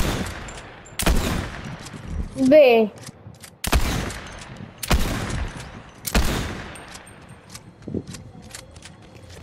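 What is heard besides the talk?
gunfire in a video game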